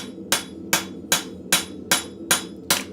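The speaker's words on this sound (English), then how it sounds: "I'm going to do a cross peen hit" Seven evenly spaced cross peen hammer blows ring out on hot metal in a blacksmith's forge, each strike sharp and bright with a short metallic decay, close and loud with no talk.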